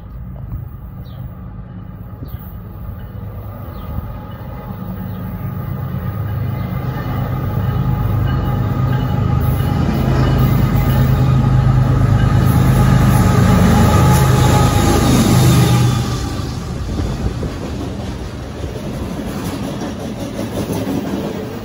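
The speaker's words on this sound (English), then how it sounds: "The next train that I saw was NS63V." Norfolk Southern freight train NS 63V rolls past in Union, New Jersey, a steady rumble and rail clatter that swells to a loud close peak and then eases off as the train continues by.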